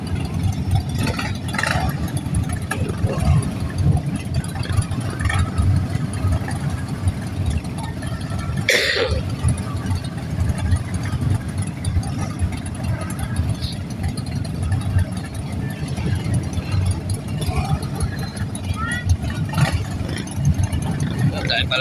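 A deep, steady Harley-Davidson motorcycle engine idles with a low rumble throughout at a motorcycle parade, while people chatter and exclaim nearby.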